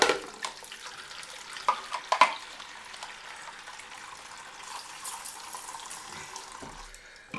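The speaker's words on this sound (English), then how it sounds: "Fill up my spray bottle." Water runs from a tap to fill a plastic spray bottle, a steady close trickle and hiss with a few small knocks and clatters.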